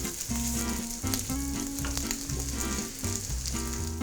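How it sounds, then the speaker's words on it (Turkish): Whisked eggs cooking in a preheated pan over low heat give a steady, close sizzle throughout, joined by a recurring low hum in the background and no talk. "Ve ısınmış olan tavayı alıyorum. Kısık ateşte bu şekilde pişiriyorum."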